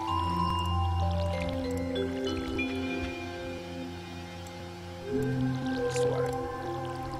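Crops being watered in the video game Stardew Valley, with a watering-can squish and splash sounding over the game's steady melodic background music, no voices.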